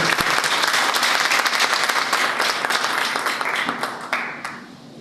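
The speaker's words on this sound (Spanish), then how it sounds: "un aplauso entonces para la licenciada Arelis Villalobos" An audience at a school event honoring a speaker gives warm, dense applause that rings out strongly, then gradually thins and fades toward the end.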